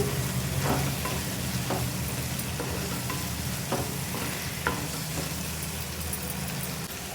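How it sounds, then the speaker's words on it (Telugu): Cumin powder and other ground spices being stirred with a ladle in a pan for potato kurma, a steady close sizzle with soft scraping strokes throughout, no voices. "1/2 టీ స్పూన్ జీలకర్ర పొడి వేసుకొని ఇలా ఇవన్నీ వేసుకొని ఒకసారి గంటతో ఇలా మిక్స్ చేసుకొని"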